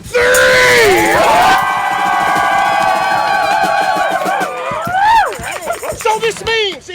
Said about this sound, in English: give us your best groundling cheer